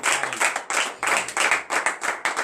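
A church congregation at morning prayer in Benin claps in rhythmic bursts, the applause rising and falling in several waves, loud and close, with no voices over it.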